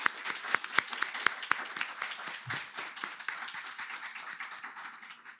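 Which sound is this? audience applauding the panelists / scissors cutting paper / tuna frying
audience applauding the panelists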